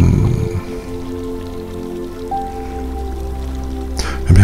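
Steady rain falls and patters on a surface in a calm relaxation soundscape, continuous and fairly close, ending in a short burst of louder sound.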